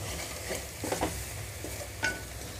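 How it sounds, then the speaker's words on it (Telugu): Chickpea curry cooks in oil as a spoon stirs it, giving a soft, steady sizzle broken by a few light scraping strokes against the pan. The sound is close but fairly quiet. "మొత్తం కలిపేసి ఆయిల్ అంతా పైకి తేలే వరకు 2-3 నిమిషాల పాటు ఉడికించుకుంటున్నాను."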